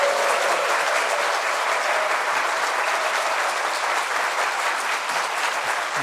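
A church congregation claps loudly and steadily to welcome a visiting pastor at a Korean deacons' dedication service, a dense, sustained wash of applause that holds its level for the full six seconds.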